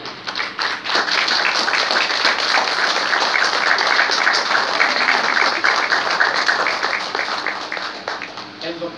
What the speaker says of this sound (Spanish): que al doctor Alberto le demos un aplauso